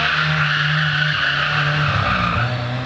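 A 27-year-old Toyota Starlet KP60 engine, suspected of fuel starvation, revs up close and loud, its steady drone dipping and faltering in pitch as it cuts out when the throttle is released and reapplied.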